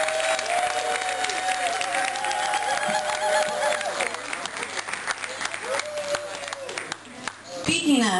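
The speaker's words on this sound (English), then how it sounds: "Let's give another round of applause for Steve Smith." A round of applause at a holiday harm reduction dinner, sustained clapping from the crowd that gradually thins out, with a voice speaking over the tail end.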